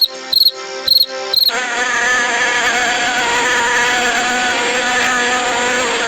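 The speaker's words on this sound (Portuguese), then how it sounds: "Olha a abelha, gente." A bee buzzes in a sustained, droning tone that wavers slightly in pitch, loud and close, preceded by a few short tonal bursts.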